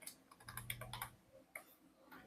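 Quiet, close keystrokes tap out a short word on a computer keyboard in an irregular rhythm of soft clicks, with no speech.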